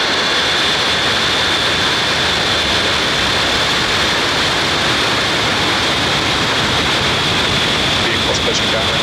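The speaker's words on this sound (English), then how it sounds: "And liftoff, OneWeb 3." A SpaceX Falcon 9 rocket lifts off from SLC-40 at Cape Canaveral. A loud, continuous roar of broadband noise holds steady the whole time.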